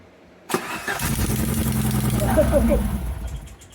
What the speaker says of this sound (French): On va voir si ça va démarrer maintenant.